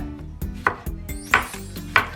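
A knife slices a cucumber thinly on a cutting board in three crisp, evenly spaced strokes, close and clear, with no voices.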